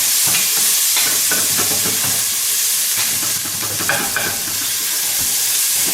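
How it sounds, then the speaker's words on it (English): Green chilies and ginger fry in a curry pan while being stirred, a loud continuous sizzle with repeated scraping and clattering strokes of the spoon, close up and without speech. "Give it a good stir."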